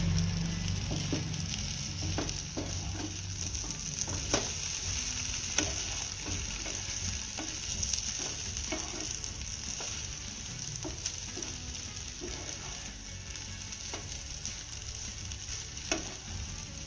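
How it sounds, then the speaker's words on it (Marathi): Cooked stuffed okra is stirred in a pan over a constant sizzle, with frequent scraping and tapping strokes of a spoon recurring irregularly throughout, close and clear with no talking. "ही भेंडी आपल्याला एकदा छान अशी मिक्स करून घ्यायची आहे"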